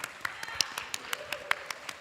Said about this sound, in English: One more round of applause for all of them.